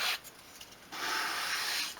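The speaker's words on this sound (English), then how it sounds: "So just move the piece along the sandpaper in one direction." A small wooden piece for a 1/12 scale work table is pushed along sandpaper in one direction, making a close, raspy rubbing sound in two strokes: a short one, a pause, then a longer sustained stroke.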